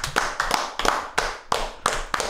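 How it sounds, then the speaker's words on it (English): A small group clapping in several short, sharp bursts, each a quick flurry of hand claps separated by brief pauses, close and fairly loud with no talk. "let's give ourselves a round of applause"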